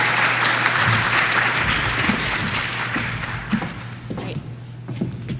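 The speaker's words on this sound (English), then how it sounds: "can I get a round of applause?" A conference audience applauds in a room, dense clapping that is loud at first and then thins out into scattered claps, with a few voices murmuring near the end.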